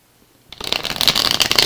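Tarot cards are riffled and shuffled close up after a moment of quiet, a crisp papery flutter that builds and stays busy to the end.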